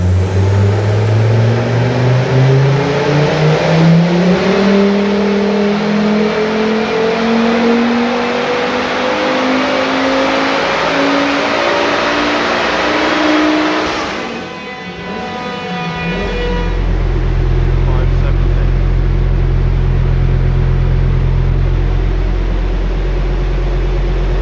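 A turbocharged five-cylinder engine in a Toyota MR2 MR-S on a dyno winds up in a long, loud, climbing rev, then drops sharply and settles into a heavy, steady drone.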